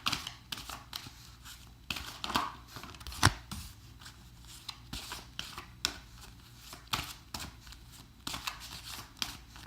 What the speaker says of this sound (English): for those of you who enjoy the shuffling like I do